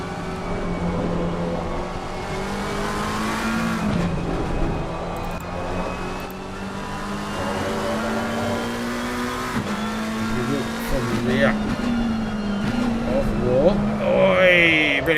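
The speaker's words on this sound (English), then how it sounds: "As Lawrenson gets a nice tow, didn't pull out of the slipstream there" Race cars lapping Spa in a racing video game, with continuous loud engine whine that rises and falls through gear changes as cars run nose to tail in a slipstream, while a commentator talks over it.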